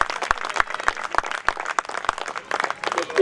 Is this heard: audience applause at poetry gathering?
yes